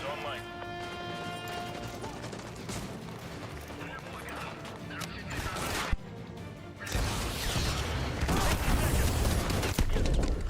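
Modern Warfare 2 Remastered AGM missile strike: a dense, heavy barrage of booming blasts and rapid gunfire surges loudly in the second half, with a sharp crack near the middle and in-game voices underneath.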